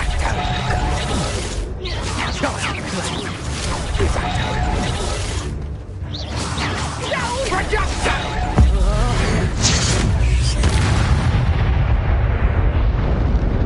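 Incendio and Confringo spells in the Hogwarts Legacy video game: loud, dense bursts of fiery explosions and crackling blasts following one another in a busy combat mix, with a voice speaking over the clamor.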